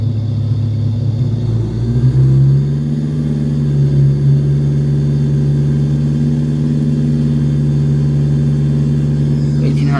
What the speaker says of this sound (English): To bring the throttle to 1800 RPM